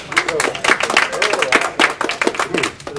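A small live audience at a university library event claps in quick, uneven bursts, close and fairly loud, with the sharp hand slaps overlapping into brief rounds of applause.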